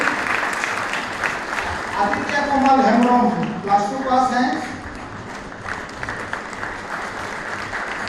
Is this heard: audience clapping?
yes